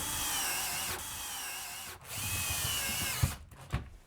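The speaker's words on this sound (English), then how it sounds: "I'm going to screw this in just temporarily" A power drill drives screws into a tubular skylight assembly in short whirring bursts with brief pauses between them, close by and fairly loud, ending with a couple of knocks.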